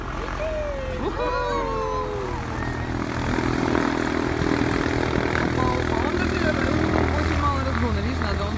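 A Piper propeller airplane's engine hums steadily nearby as people talk over it, the drone growing slightly louder partway through.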